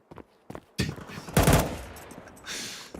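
Bursts of AK rifle fire in Counter-Strike 2 during a competitive match, several separated loud volleys building to a heavy burst in the middle, with a few faint footsteps between them.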